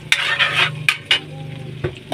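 Shrimp sautéing in butter with garlic and onion, a steady sizzle under several sharp clinks and scrapes of a spoon stirring against a metal pan, close and moderately loud.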